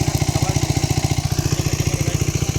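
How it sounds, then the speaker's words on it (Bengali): A motor pump engine running beside a Sundarbans fish pond while it is drained, chugging loudly and nearby with a fast, even, regular thumping beat. "মেশিন স্টার্ট দিয়ে চলে এসছে"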